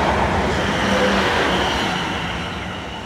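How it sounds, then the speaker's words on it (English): A South Western Railway passenger train from London Waterloo to Weymouth passing near Eastleigh, a loud, steady rumble of wheels and rail noise that eases slightly toward the end, with no talk. "this is 2 Whiskey 69 Southwest train service from London Waterloo"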